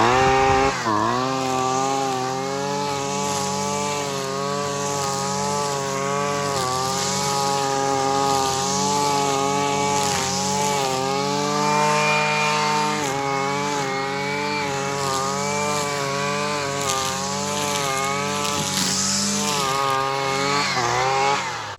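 A Husqvarna 130L gas string trimmer runs steadily and loudly close by, its two-stroke engine droning with a buzzing harmonic whine that rises and falls slightly with the throttle for about twenty seconds.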